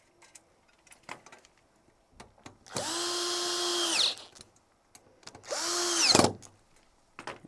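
A power drill drives 10 mm bolts while mounting the pedal of a JACK E5 overlock sewing machine, whining loudly in two bursts of about a second each, between quieter clicks and handling of parts.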